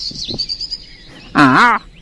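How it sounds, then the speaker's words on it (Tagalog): Birds calling from a big tree, a few faint high chirps followed by one loud, close, warbling call lasting under half a second, with no talking. "Oo, tama. Mga ibon nga."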